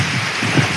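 Heavy rain pouring down in a steady, loud, dense hiss of drops striking surfaces, close and continuous through the whole short moment.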